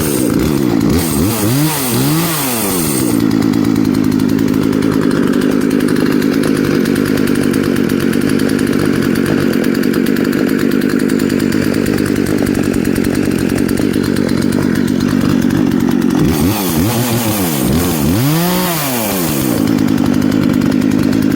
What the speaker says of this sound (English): reviewing my Poulan Pro chainsaw